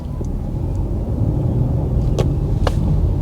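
A Jeep Avenger e-hybrid with a modest three-cylinder engine driving at low speed, giving a steady, soft rumble of engine and road noise with a couple of brief sharp ticks near the end.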